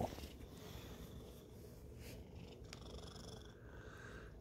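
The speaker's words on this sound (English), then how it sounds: "Can you guys hear him purring?" A cat purrs softly and steadily close by, a low, continuous rumbling that stays quiet throughout with no talking.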